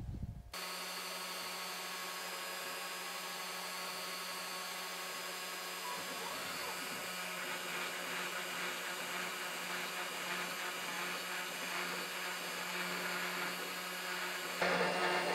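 A CNC router fitted with a ball nose bit cuts a wood workpiece for a hat stand, giving a loud, steady high whine with a grinding edge. It runs for about fifteen seconds, with no talk over it.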